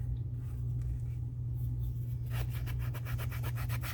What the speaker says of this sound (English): Let's see if sanding this down works